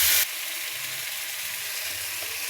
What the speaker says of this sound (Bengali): এবার এরকম করে নেড়ে নেড়ে একটু কষিয়ে নেব